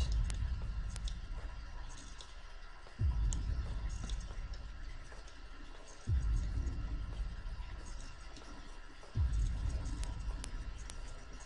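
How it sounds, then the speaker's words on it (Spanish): Ominous heartbeat-like or drum thuds in the Slender: Sanatorium horror game, three heavy low booms spaced about three seconds apart over a constant dark ambient hum with faint ticking. "Este sonido ahí de, latidos o tambores."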